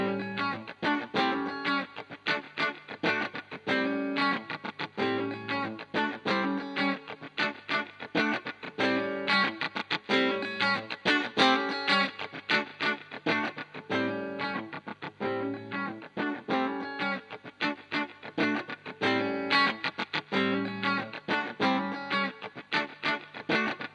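Electric guitar played through a DV Mark DV Micro 50 CMT amp head, a steady driven riff with a dense distorted tone and rhythmic picking, loud and continuous with no talking.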